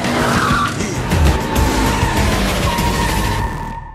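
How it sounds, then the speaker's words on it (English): A car drifts with loud, sustained tire squeal and skidding under a revving engine, close and continuous for several seconds before cutting off. "At this time, Han was demonstrating his drifting skills."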